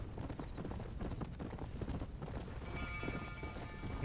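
Horse hooves clip-clop in a quick, steady galloping rhythm, close and continuous, from Red Dead Redemption: Undead Nightmare.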